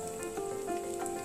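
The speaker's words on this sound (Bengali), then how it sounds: "এবার আমি একটা করে পাকোড়া এর মধ্যে দিয়ে ভেজে নিচ্ছি" Chicken pakoras sizzling in hot oil over low heat, a soft steady crackle and bubbling, faint and close with no voices.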